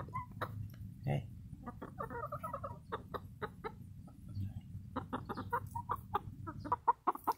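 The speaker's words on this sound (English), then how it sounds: "If you guys have not seen the chickens here, there's chickens." Chickens on an urban farm cluck in short, scattered bursts close by, with soft low murmuring clucks between sharper calls and a person speaking briefly among them.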